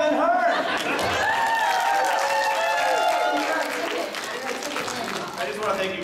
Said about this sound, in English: I just want to thank you guys for all the applause today